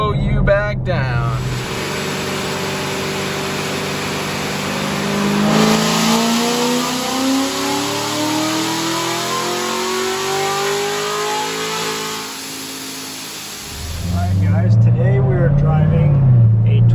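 A big supercharged pickup truck with a centrifugal supercharger and about 750 horsepower accelerates hard on a track, its engine roaring loud and steady as it climbs through the gears, with someone talking over it.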